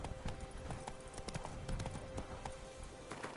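Roach the horse's hooves clip-clop steadily on the ground in Witcher 3, a brisk rhythmic trot of sharp hoof strikes, fairly close and alone.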